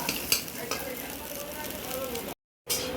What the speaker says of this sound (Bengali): এখানটাতে ভাত ভাজা করছে আমার বড় মেয়ে